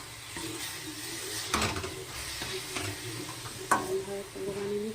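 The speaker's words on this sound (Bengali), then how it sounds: "এবার আমি নেড়ে নেবো ভালোভাবে" Grated coconut and jaggery filling for patishapta is stirred in a pan, giving soft scraping strokes over a low background with two sharper knocks of the spatula.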